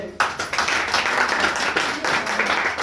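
An audience breaks into clapping at a welcome ceremony, starting abruptly and then holding as a steady, moderately loud patter of many hands until the end.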